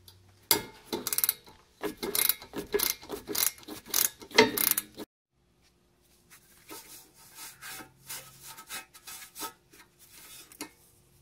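A wrench ratchets a 10mm bolt off a front strut of a Toyota MR2 Spyder, making close, rapid mechanical clicking in two bursts separated by a short pause.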